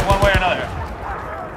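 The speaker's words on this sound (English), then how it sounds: "There. There's gunfire." Video game gunfire cracks out in a quick burst of three or four sharp shots near the start, then trails off into a busy, lower rumble of game sound.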